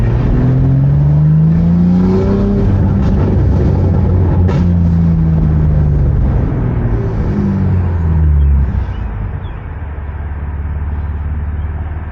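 A BMW G82 M4 with its S58 engine and MAD catless downpipes roars loudly up through the gears, its rising revs cut by quick shift breaks before the note drops back to a steady cruising drone.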